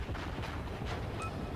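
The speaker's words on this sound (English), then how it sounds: "These guns rotate really quickly on this ship, so we should be able to get some shots off" In the World of Warships video game, a Kuma class cruiser fires its guns, giving dense, rumbling booms and blasts that run together over a brief, loud stretch.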